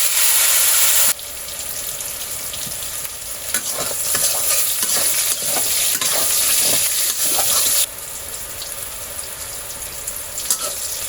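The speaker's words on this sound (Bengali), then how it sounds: "আগে থেকে হলুদ ও লবণ দিয়ে মাখিয়ে রাখা বেগুনগুলো, ভালো করে উল্টে পাল্টে ভেজে নিব।" Eggplant pieces pre-coated with turmeric and salt frying in hot oil in a pan, a loud continuous sizzle with scraping and clattering as the pieces are turned, shifting in intensity partway through.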